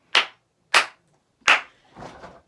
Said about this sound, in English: Round of applause for the boys today.